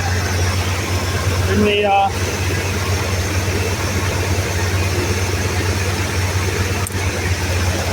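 An old square body plow truck with a 2-barrel carburetor runs at a steady idle, a constant low engine drone close by, with a brief spoken word over it.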